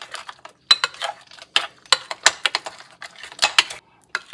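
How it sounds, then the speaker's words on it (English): A spoon or whisk stirs an egg into brownie batter in a bowl, giving a run of quick, close clinking and scraping strokes against the dish in an irregular rhythm, with no talking. "And then just mix it in until it's just combined."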